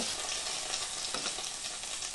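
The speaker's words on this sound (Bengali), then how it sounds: "এদিকে সবজিগুলো সব ভালোভাবে ভাজা হয়ে গেছে" Steady, dense sizzling of vegetables frying in hot oil, a continuous crackling hiss with small pops, close and fairly loud, no talking.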